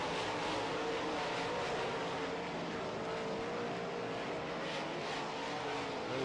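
Modified race cars run laps during a heat race, their engines producing a continuous, dense roar that holds steady throughout with no break.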